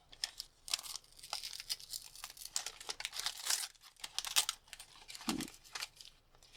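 Crinkly plastic packaging around a houseplant is pulled open close to the microphone, giving bursts of sharp crackling and tearing rustles with short quiet gaps between handlings.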